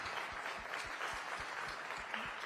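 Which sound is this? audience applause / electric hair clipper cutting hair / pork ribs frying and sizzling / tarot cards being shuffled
audience applause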